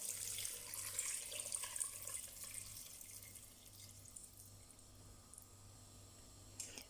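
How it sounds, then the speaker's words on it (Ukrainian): Water poured over potatoes in a pot for a stew of potatoes with meat, a steady splashing, trickling flow that runs continuously and fades slightly toward the end, fairly close and without talk. "І тепер покриваємо картоплю цією водичкою."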